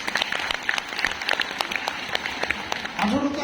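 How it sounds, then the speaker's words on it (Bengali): Applause for Debashis and his team at a Modicare recognition event in Bongaon, a steady crowd clapping that fills the hall, with a voice starting to speak near the end. "দেবাশিসদের জন্য একটা জোরে হাততালি দিন"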